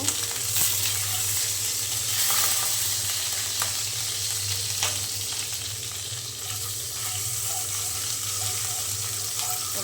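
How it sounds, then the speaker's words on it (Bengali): Eggs frying in hot oil in a home kitchen pan, with cauliflower and turmeric in the dish: a steady, continuous sizzle and hiss throughout, fairly close, with faint clicks of utensils and no talking. "ডিমগুলো ভেজে নেব"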